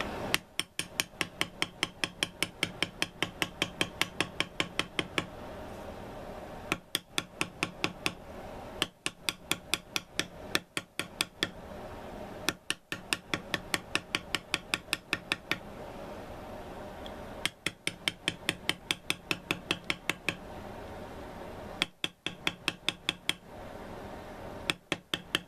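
A hammer taps a bevel tool into leather on a knife sheath in rapid, even bursts of sharp close clicks, each run lasting a couple of seconds with short pauses between, no voices.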